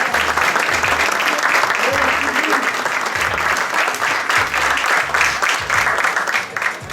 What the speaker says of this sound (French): Je vous voudrais, chers amis, d'applaudir Madame Sylvie Malice qui est là